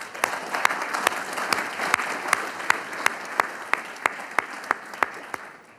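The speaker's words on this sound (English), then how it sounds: "I think a round of applause would be appropriate for that." An audience at an executive board meeting of airline pilots gives a round of applause, steady close clapping with sharp individual claps standing out rhythmically above the wash, sustained for about six seconds.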